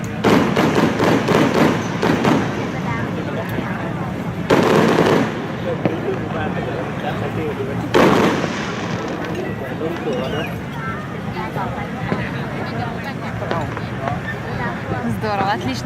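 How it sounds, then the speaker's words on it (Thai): Fireworks mark the end of dinner at The Windmill, a Thai restaurant in Chiang Mai, with booming bursts and crackling pops under a constant murmur of crowd talk and chatter. "Здорово, отличное завершение ужина салютом."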